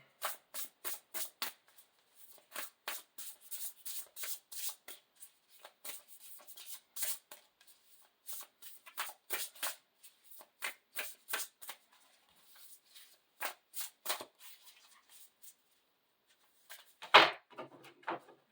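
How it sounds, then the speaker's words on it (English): Tarot cards shuffled repeatedly in quick riffling bursts with brief pauses between them, close and crisp, ending in one louder snap. "I already pre-shuffle"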